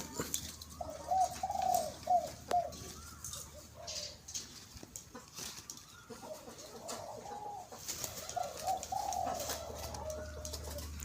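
Zebra doves cooing nearby, repeated soft rolling coos in short phrases with brief pauses between, over a low steady background hum.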